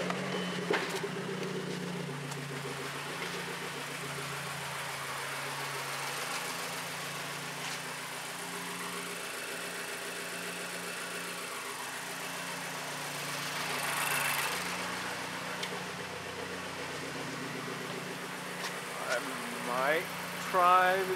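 A car engine starts and settles into a steady idle during a head gasket test, with a scope sensor attached. The idle hums low and even throughout, with someone talking over it.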